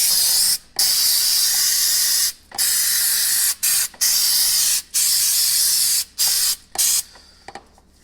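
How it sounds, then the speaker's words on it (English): Brake cleaner sprayed onto the pinion area of a Jeep Wrangler during a pinion seal replacement, loud close hissing bursts of varying length separated by short pauses, fading to a few brief spurts at the end. "Brake cleaner it good."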